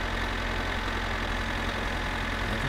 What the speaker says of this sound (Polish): ten ciągnik jedzie tak wolno